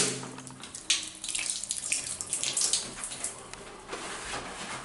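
Shower water runs in a bathroom, a steady hiss of spray with irregular splashes and drips, faint and continuous with no voices.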